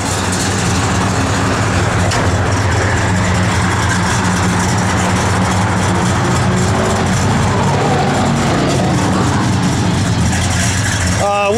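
A 1967 Plymouth GTX idling, its engine a loud, steady low rumble throughout, with voices talking over it.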